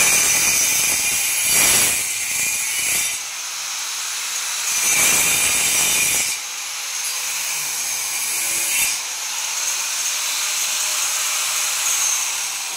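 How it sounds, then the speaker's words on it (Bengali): A wall-chasing machine cuts grooves into a wall for electric lines, its loud, harsh grinding whine rising in bursts and easing off between cuts, close by with no talk. "দেখেন আসলে কিভাবে কাটা হয় মেশিনের সাহায্যে গ্রুপগুলো"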